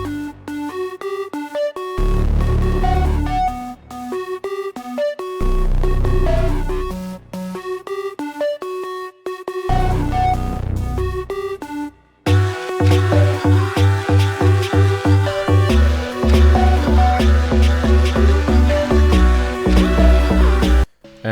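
Beat loop with punchy kicks and drums driving a spacey synth lead from the Flash Multi-Kit preset Dirty, thinning out in stops before hitting harder and denser at the halfway point.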